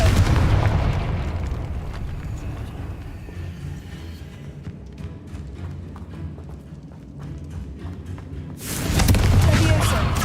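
Confringo fire spell blasts in Hogwarts Legacy: a loud, rumbling explosion opens the moment, fades into low crackling and debris, then a second heavy burst erupts near the end.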